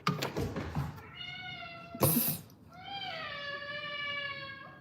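A male house cat in a kitchen lets out two drawn-out, clear meows, close to the microphone, after a short burst of indistinct noise.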